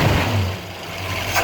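A 1967 carbureted engine, recently out of four years of storage, stumbles and bogs briefly, a low uneven engine rumble that sags in the middle before picking back up, close and fairly loud.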